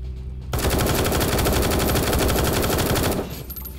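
Rapid automatic gunfire in the video game War Tycoon, one loud sustained burst of about two and a half seconds with evenly spaced shots, close and dominant, ending abruptly.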